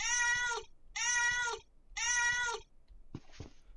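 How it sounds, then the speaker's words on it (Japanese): Cat meows inside a horror mystery video game, three clear, loud drawn-out meows in steady rhythm followed by a softer, rougher vocal sound, with no talking over them. "あ、猫さんまたいるわ。"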